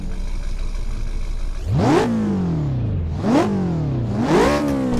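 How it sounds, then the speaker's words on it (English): A BMW M5 in a Roblox racing game idles, then revs three times, each sharp rise in pitch falling away before the next, loud and close with no one talking. "Now let's do some revving."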